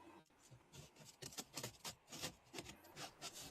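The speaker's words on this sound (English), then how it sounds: "Get you a little piece of sandpaper." Sanding by hand with a small piece of sandpaper: close, quiet, rhythmic rasping strokes, about a dozen back-and-forth rubs over a few seconds.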